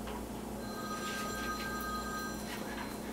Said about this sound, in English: And there's a phone call,